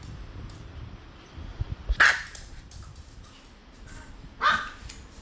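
A dog gives two short, sharp barks or yips a few seconds apart, near and fairly clear over a low rumbling background, with no speech.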